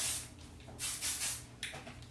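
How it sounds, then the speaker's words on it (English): Several short hissing bursts of Kevin Murphy Session Spray hairspray, close by, separated by brief pauses. "So at the beginning, I sprayed hairspray all in."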